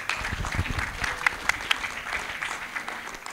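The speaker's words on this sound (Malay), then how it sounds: "berikan tepukan sekali lagi kepada panel-panel" Audience clapping for a panel at a town hall session on digital fraud crime, a steady wash of many hands with a few sharper, louder claps standing out, heard up close and without speech.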